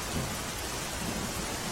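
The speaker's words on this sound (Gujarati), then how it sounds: "તો જૂનાગઢમાં ધોધમાર વરસાદ વરસી રહ્યો છે" Heavy rain pouring down in Junagadh, a dense, steady hiss of falling water with no breaks, heard alone without talking.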